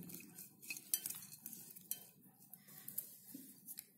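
A spoon scrapes and taps against a pot or bowl while vegetables are stirred with salt and cumin powder, giving soft irregular clinks and rustles at close range with no talking.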